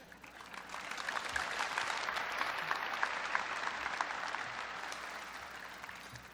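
Graduating class and audience at a 2022 South Side graduation ceremony break into sustained applause, a dense wash of clapping that swells and then gradually fades, with no voices over it.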